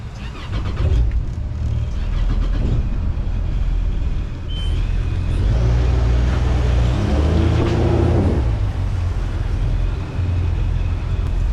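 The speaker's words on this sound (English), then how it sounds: "Now that the engine's started" A boat's engine starts while the boat is still tied up at a dock during a solo launch, a loud, close motor that cranks, catches and settles into a rumbling idle, running steadily with no talking.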